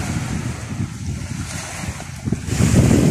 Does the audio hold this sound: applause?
no